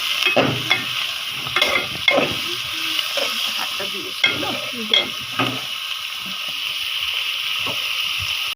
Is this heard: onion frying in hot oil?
yes